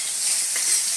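Chopped aromatics sizzle in oil in a pan while cooking creamy chicken with mushroom, a steady close, bright frying hiss with faint stirring.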